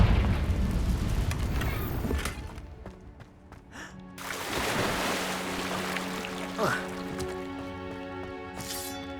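A Confringo spell blast in the Hogwarts Legacy game: a loud booming explosion that trails into a rushing, crackling rumble with further bursts, amid game sounds and some background voice.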